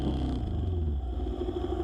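Traffic on a rush-hour road in the Philippines, heard while riding a small motorcycle: a steady, loud engine rumble and road noise with clattering vehicle sounds close around, continuous throughout.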